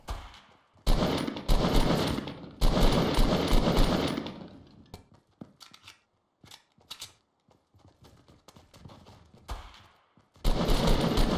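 Rapid bursts of gunfire in the mobile game Fortnite, loud clustered volleys early on, then sparser scattered shots before a final heavy burst, with no talking.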